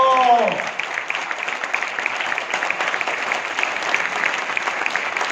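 Audience applause at a Chandigarh MTM program talk: a dense, steady wash of many hands clapping fills the room after a brief voice at the start, holding loud and even to the end.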